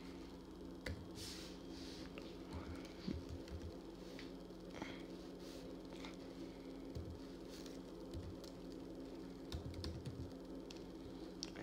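Someone types a password on a MacBook Air keyboard: soft, quiet key taps in an irregular rhythm over a faint background hum, with no voices.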